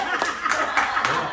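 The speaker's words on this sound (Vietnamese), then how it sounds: "Vỗ tay" A few people at home clap in a quick, even rhythm, with soft chuckles and laughter mixed in.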